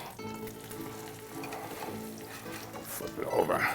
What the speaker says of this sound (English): Smell that egg cooking.